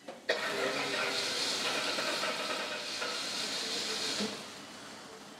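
A Cadillac V8 with an empty fuel line cranks on its starter after repairs, a sustained whirring hiss after a sharp click that continues for several seconds and then fades without the engine catching.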